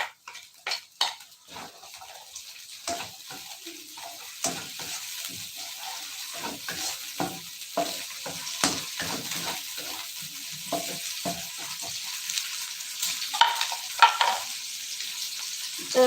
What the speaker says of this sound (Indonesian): Tapi bisa dimasukkan aja ya, langsung ditumis aja untuk